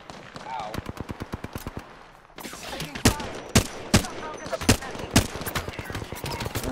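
Rapid bursts of gunfire from the Apex Legends video game, a quick run of sharp shots followed by several louder, spaced heavy blasts, all close and prominent with no talking.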